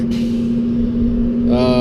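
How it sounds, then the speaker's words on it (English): An 18 horsepower water-cooled Kubota diesel engine in a Bomag radio-controlled roller runs with a steady, even hum at close range, and a voice speaks briefly near the end. "I think it's like an 18 horsepower Kubota diesel, water cooled"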